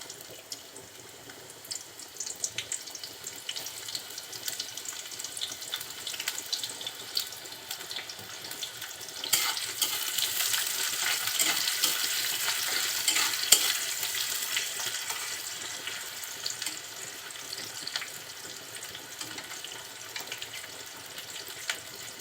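Chopped onion and green chili frying in hot oil for a prawn and bottle gourd dish, a continuous watery sizzle that swells louder midway, close and without talk.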